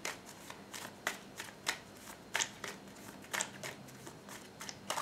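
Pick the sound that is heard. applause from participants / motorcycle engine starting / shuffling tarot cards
shuffling tarot cards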